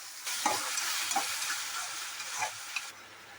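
Tomatoes stirred into a frying masala paste for a rajma curry: a soft continuous sizzle broken by several scraping stirs of a spoon, close by and with no one speaking.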